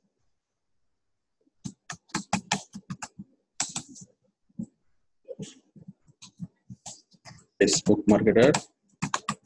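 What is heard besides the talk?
typing on a computer keyboard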